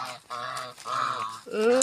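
Farm chickens, ducks and turkeys calling close by: a run of nasal, honking quacks in three bursts, loud and overlapping, the poultry squawking together.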